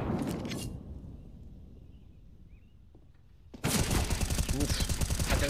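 Rapid automatic gunfire rattles loudly in a Counter-Strike match during an ESL Pro League esports game, with a short burst at the start, a quieter lull, and then a sustained, dense volley of shots.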